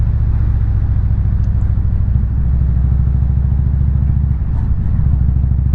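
Indian motorcycle on a countryside group ride, its engine droning in a loud, steady close rumble with slight shifts in pitch, heard alone.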